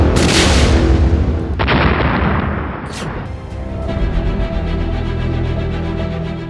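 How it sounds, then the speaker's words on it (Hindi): A loud explosion blast from army bombardment during an encounter in Anantnag at the start, followed by further booms and crackling bursts, then a sustained low rumble. "ये पहला धमाका, ये दूसरा धमाका, ये तीसरा धमाका और ये चौथा"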